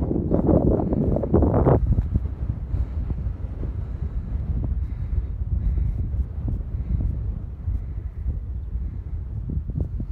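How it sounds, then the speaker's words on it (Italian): Wind gusting along a seafront promenade at Corralejo, Fuerteventura, roaring steadily into the microphone with low buffeting rumble and a louder burst at the start, no voices. "si è alzato un pochettino il vento adesso qua"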